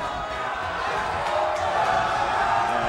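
Esports tournament crowd at a Smash-style winners semifinal cheering steadily, a broad sustained roar that swells slightly toward the end with no clear talk over it.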